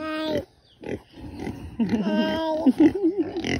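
A pig grunts and oinks in several short, close bursts, the squeals rising and wavering toward the end, while people nearby talk and coo in between.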